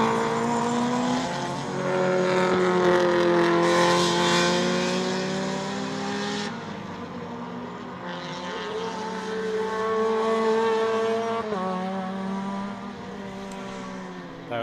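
Sports compact race cars circulate at Winton Motor Raceway, several engines droning and revving loudly together with shifting pitch as they pass close by, with no clear speech over them.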